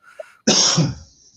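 A single sharp sneeze bursts out after a faint breathy intake, loud and close, with a hissy tail that fades over half a second.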